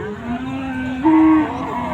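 A bull at a Bangladeshi cattle market moos once, loud and close, a short deep low that swells then stops.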